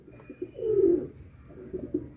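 Pigeons being fed and eating produce a low, throaty coo that swells once and fades, close by and fairly soft, with small pecking or rustling sounds around it and no talk.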